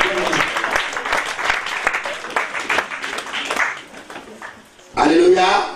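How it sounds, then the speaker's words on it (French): Congregation clapping and applauding during a church sermon, dense and lively for several seconds before tapering, then a loud voice breaks in near the end. "Applaudissez Jésus"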